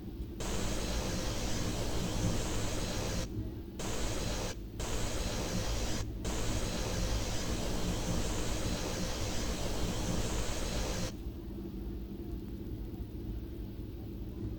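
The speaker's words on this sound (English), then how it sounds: "So we're gonna open the air valve here. Come over to our blowdown valve." In the game Disneyland Railroad Steam Simulator, a steam locomotive's blowdown valve releases loud, broad hissing in long bursts broken by a few brief cutoffs, then drops to a softer steady hiss.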